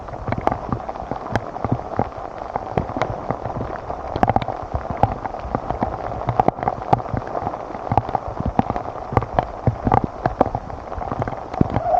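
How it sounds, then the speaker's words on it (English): Heavy rain pours down on a hiking trail in the Black Hills during a long-distance march, a dense, constant patter of drops spattering close by, with no talking. "Approximately 20 miles in, the rain poured."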